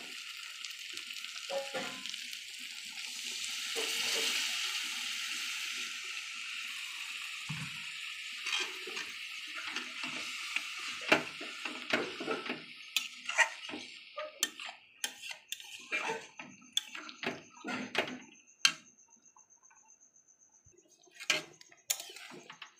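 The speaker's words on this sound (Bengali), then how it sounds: "এবার পরিমাণ মতন জল দিয়ে দেবো।" Water is poured into green chicken curry simmering in a pan. A hissing splash at first gives way to quieter bubbling with scattered ticks and clinks of utensils.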